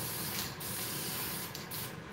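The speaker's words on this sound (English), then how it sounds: "I'm using Movie Paint nicotine spray because it's pretty translucent" Movie Paint nicotine spray hisses from a can onto a mask in a faint, continuous spray broken by a few short pauses, with no talk.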